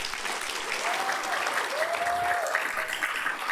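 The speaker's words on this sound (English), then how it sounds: "Perhaps if we can just give Sri Mulyani a round of applause." An audience applauds Sri Mulyani Indrawati at an oration event, with sustained clapping filling the hall and a brief tonal whistle-like sound rising over it.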